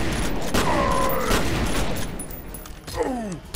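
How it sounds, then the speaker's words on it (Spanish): Gunfire in the shooter F.E.A.R. Perseus Mandate, rapid volleys of close, loud shots in sustained bursts, with a break before a final flurry and a brief voice-like sweep near the end. "Está disparando."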